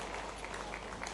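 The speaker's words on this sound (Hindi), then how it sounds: "जोरदार ताली बजाइए" Audience applause at a political rally held by a Chief Minister, steady dense clapping throughout at moderate distance.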